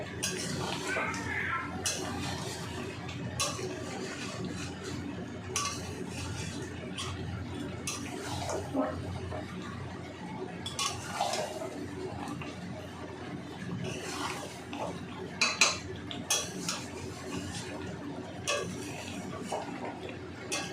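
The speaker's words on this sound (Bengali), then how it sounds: "একটু খেয়াল করেই হালকা করে নাড়াচাড়া করে নিতে হবে" Mutton curry with whole garlic cloves being stirred gently in a pot, irregular light scrapes and clinks of a utensil against metal over a low background murmur, close and moderately quiet throughout.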